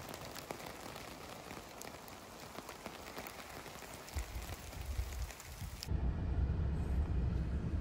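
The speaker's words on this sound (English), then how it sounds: "Hopefully the rain doesn't last all day." Heavy rain pours steadily onto a truck camp in a county forest, a dense continuous hiss and patter that swells louder with a deeper drumming roar toward the end, with no voices.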